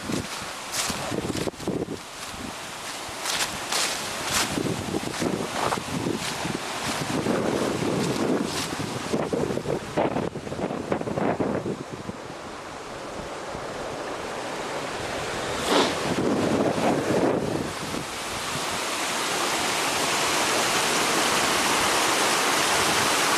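Water rushes steadily at an old dam, a loud broadband roar that runs throughout, partly masked by bursts of wind buffeting the microphone outdoors.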